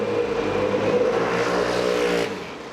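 A Royal Alloy GT50 scooter engine revs up close in a strong, rising buzz that holds for about two seconds before cutting back sharply at the end.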